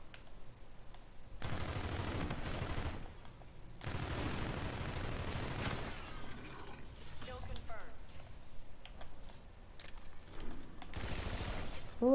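Automatic gunfire in a Star Wars video game comes in several sustained bursts of rapid blaster fire, loud and close, separated by quieter gaps with mechanical clatter.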